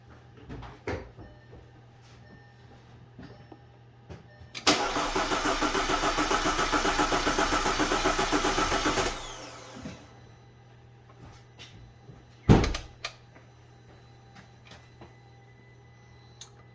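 A 2010 Audi A4 2.0T engine cranks steadily for about four seconds during a cylinder compression test, a rapid even starter churn, close and alone, followed by a brief clank later.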